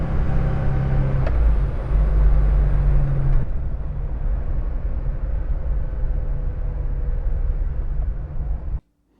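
A 1970 Porsche 911 drives steadily with a loud, sustained engine and road drone heard from inside the car, easing off briefly as it corners and brakes before cutting to silence at the end.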